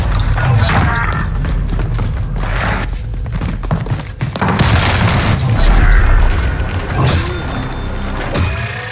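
Heavy gunfire and explosions in Call of Duty Warzone Pacific battle royale duos, a dense, continuous barrage of loud booms, thuds and shots filling the whole stretch with no letup.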